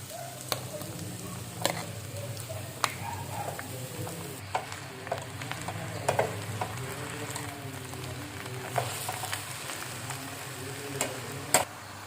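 Drumsticks and ridge gourd cook in a pan, giving a soft, low sizzle broken by scattered sharp clicks and spatters, with occasional faint clinks and no talking.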